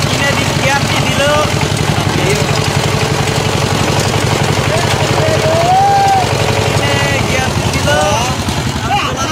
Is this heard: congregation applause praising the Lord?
no